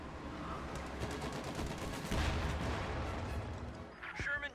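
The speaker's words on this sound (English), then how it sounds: "240mm howitzer barrage getting called in right on top of this point" A 240mm howitzer barrage pounds a point in the World War II strategy game Company of Heroes 2: dense, continuous heavy booms and rumbling blasts overlap, with scattered gunfire mixed in throughout.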